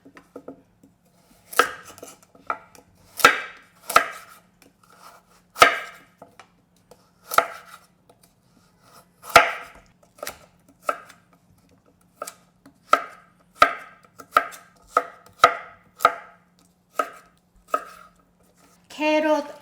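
A knife chopping carrot into thick matchsticks on a cutting board, crisp close chops in uneven bursts with short pauses, some quick runs of strokes near the end, no talking.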